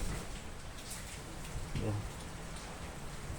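Steady rain patters and hisses on a surface throughout amid strong wind, a dense wash of drops with a brief low thump partway through.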